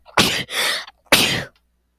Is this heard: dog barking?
no